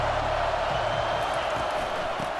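Steady stadium crowd roar from an EA Sports College Football 25 game, a dense, continuous wash of many voices holding at one level with no breaks or peaks, surging slightly as the home fans try to pin the offense deep.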